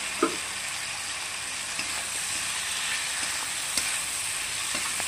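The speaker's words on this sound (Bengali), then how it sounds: "হালকা ভেজে নেব, হালকা করে।" Onion, tomato, green chilli and boiled potato frying lightly in a pan, giving a steady, moderate sizzle with a few soft clicks of a spatula stirring.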